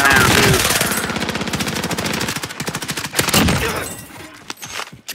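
Rapid automatic gunfire from a video game rattles loudly in a fast steady stream, then breaks into scattered shots and thuds as it dies down, with no voices over it.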